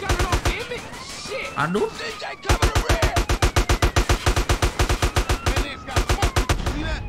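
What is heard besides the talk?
AK-47 gunfire in video game GTA San Andreas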